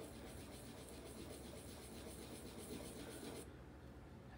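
An engraving tool is honed on the fine side of a sharpening stone, giving a steady, continuous rasping rub that runs evenly, then cuts off abruptly near the end, leaving only quiet room tone.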